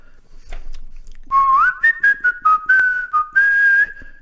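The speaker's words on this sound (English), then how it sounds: "whistle." A person whistles a short melodic phrase alone, a few bright sustained notes with quick slides and breaks between them, clear and close.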